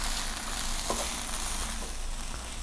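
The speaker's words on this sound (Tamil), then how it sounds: "இது நல்லா ஃப்ரை ஆகட்டும்" Sliced lady's finger (okra) fries in oil in a pan for a crispy Tamil vendakkai poriyal, giving a steady, dense sizzle and crackle close by with a faint stir partway through and no talking.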